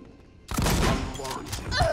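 A sudden loud burst of gunfire in the survival horror game Alien: Isolation, played on PlayStation 5, erupting out of quiet and followed by a sustained chaotic din.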